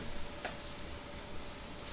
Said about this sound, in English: Yeah, it's already sizzling.